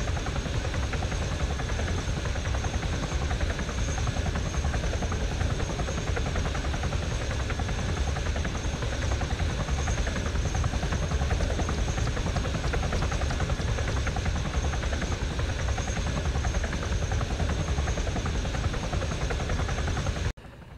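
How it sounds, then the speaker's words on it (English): A helicopter in the video game ArmA 3 hovers and flies, producing a steady, constant rotor and engine drone that fills the whole stretch at moderate level before cutting off abruptly at the end. "the helicopter is over there"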